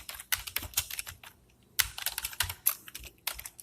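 Code is typed on a computer keyboard in quick, uneven bursts of close, crisp key clicks, broken by short pauses, with no talking.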